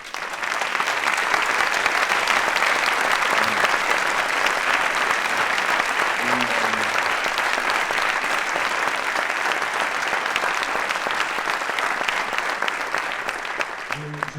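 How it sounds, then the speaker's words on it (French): Loud, sustained applause from a conference audience fills the room for the whole stretch, steady and dense without a break, with a few faint voices surfacing late in the ovation. "Merci beaucoup pour tous ces applaudissements."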